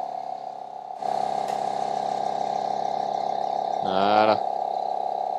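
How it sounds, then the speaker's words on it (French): Pumps switch on in a hydrogen fuel cell test rig from a car, a steady mechanical hum and buzz rising abruptly and running continuously, with a brief creaking, croak-like burst near the end and a short spoken word. "Hop, on allume les pompes."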